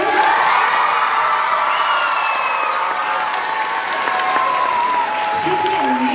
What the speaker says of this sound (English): I also want to give one more special round of applause to our amazing music teacher